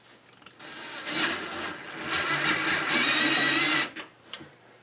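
A power screwdriver drives screws into a homemade exhaust outlet on a Rheem hybrid water heater, giving a close, whirring motor whine that rises and holds for a few seconds before cutting off with a couple of clicks.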